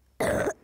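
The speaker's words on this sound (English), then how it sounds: "Sorry, I keep coughing." A single sharp, loud cough, brief and close, breaking a quiet room.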